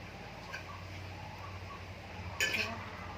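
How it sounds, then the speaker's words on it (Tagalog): A brief, bright chirp-like call rises near the end over a quiet, low background hum, with faint clinks earlier. "Narinig ko siya. Ibon yan,"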